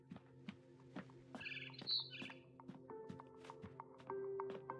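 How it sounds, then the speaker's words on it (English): A barn swallow chirping in the What Remains of Edith Finch video game, a few short faint chirps among soft taps, knocks and quiet game tones. "Then I heard chirping outside my window."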